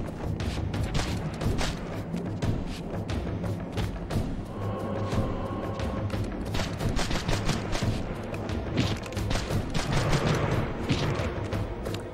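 Enemy gunfire in Legacy of Kain: Defiance on PS2 rattles in dense, continuous volleys with booming impacts and mechanical clanks, loud and relentless across the whole stretch.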